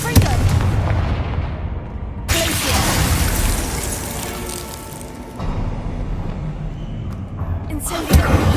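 A Confringo blast spell goes off in the Hogwarts Legacy video game, loud booming, crackling explosive bursts with abrupt cuts and a sharp final hit, with a voice speaking over the noise.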